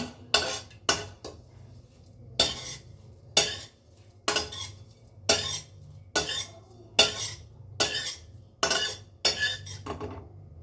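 A spoon stirring melon seeds in a pan for homemade laddu, about a dozen sharp metallic scrapes and clinks in a steady rhythm, close and clear, with no talking.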